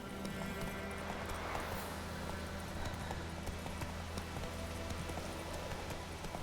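Geralt's horse gallops in The Witcher 3, a steady, close clip-clop of hooves that runs the whole time over a constant low game ambience.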